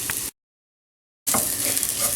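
Onions, garlic and ginger sizzle steadily in a hot pan for a chicken curry stew, a close, continuous frying hiss broken by a brief silent gap before resuming.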